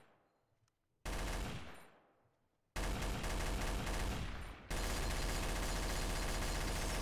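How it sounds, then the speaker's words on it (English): Gunfire in Garry's Mod Trouble in Terrorist Town comes in loud bursts: a sustained volley with a fading tail, then longer, continuous runs of rapid automatic shots filling the rest of the clip. "Who's shooting?"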